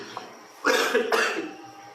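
Two harsh coughs, lingering after Covid, in quick succession, close and fairly loud, after a brief faint sound, with a short quiet tail.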